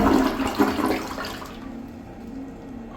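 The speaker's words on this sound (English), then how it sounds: "Let's have a look at a flush." A Kohler Reach one-piece toilet flushes on a single press and release, a loud rushing gush of water that fades into a quieter refill trickle, heard up close with no talking.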